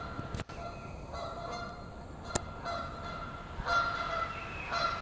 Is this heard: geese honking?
yes